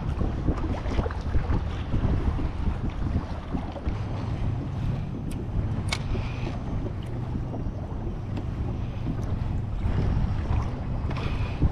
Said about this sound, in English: Definitely a little bumpy out. Got incoming tide, some wind with the tide.